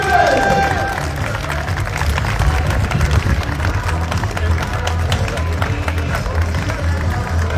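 A large crowd at a rally podium ceremony in Dieppe, Normandy applauds steadily, a dense wash of clapping that stays loud and continuous throughout, with cheers mixed in.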